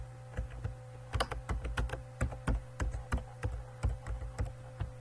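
Close, clicky keystrokes on a computer keyboard as a password is typed, a quick irregular run of taps with short pauses over a steady low hum, no voices.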